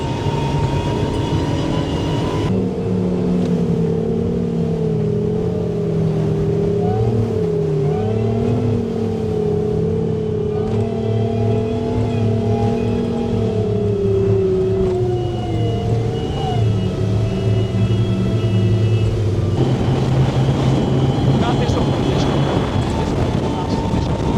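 Compressors run on a boat off Martinique, giving a loud, continuous mechanical drone with shifting tonal hums, with a brief change in pitch partway through.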